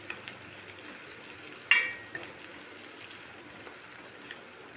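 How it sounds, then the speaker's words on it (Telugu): Peeled sweet potato pieces drop into a hot pan with a sudden sizzling burst that quickly settles into a quiet, steady frying hiss. "ఇప్పుడు ముందుగా చెక్కు తీసి పెట్టుకున్న స్వీట్ పొటాటో కందగడ్డ ముక్కలను వేయాలి"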